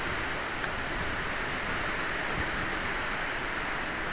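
Steady rain during a summer thunderstorm at Vougy, an even, unbroken hiss of drops falling close by, constant in loudness throughout, with no voices.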